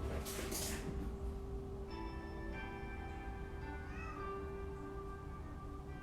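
A house cat meows softly during a quiet indoor yoga session, a few faint drawn-out calls over a steady low hum, with no talking.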